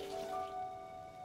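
Rain falling steadily in Zelda: Tears of the Kingdom, a soft, even patter under faint sustained game music tones, with no voices.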